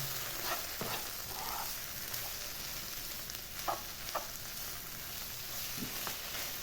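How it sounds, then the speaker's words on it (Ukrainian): Steady sizzling of onion frying fills the pan throughout, with occasional scrapes and taps of a utensil stirring, close and continuous with no talking. "Оце все пересмажуємо."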